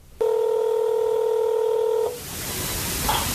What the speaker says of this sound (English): So we called the Kohan Group's founder, Mike Kohan, directly.